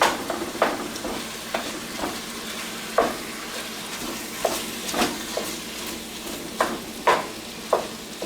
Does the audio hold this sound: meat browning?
yes